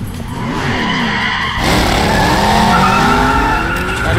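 Car tires skid and squeal during a getaway in a video game, a loud, continuous screech with engine roar that shifts in pitch as the car swerves.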